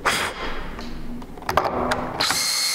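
A cordless drill with a dying battery strains to drive a screw, giving uneven whirring bursts broken by thumps and ratcheting clicks, close and fairly loud, with no talking.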